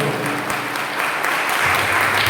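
Sustained applause from an audience for a priest at a church gathering, dense steady clapping throughout with a faint murmur of voices underneath.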